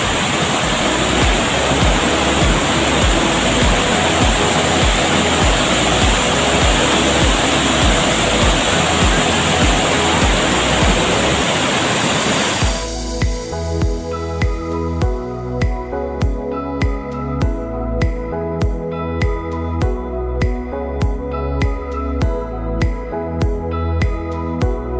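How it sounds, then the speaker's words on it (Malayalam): Arivikuzhi waterfall in Kerala roars as a loud, continuous broadband rush of falling water, close and steady, then the sound turns thinner and choppier with a rhythmic pulsing texture. "ഇതാണ് വെള്ളച്ചാട്ടം"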